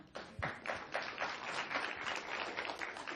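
An audience applauds in a sustained burst of many hands clapping, a dense, steady patter of claps heard at moderate distance with no voices over it.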